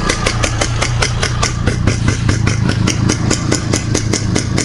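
A motorcycle engine that fired up by itself runs steadily and loudly up close, with a rapid even putter of exhaust pulses and no talk over it.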